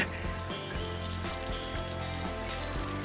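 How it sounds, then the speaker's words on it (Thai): Fish, a sea bass, fries in hot oil in a pan with a steady, dense close sizzle and crackle throughout, no voices. "จะทอดให้สุกแบบสีอ่อนนิดๆหรือว่าเข้มๆก็ตามชอบได้เลยนะคะ"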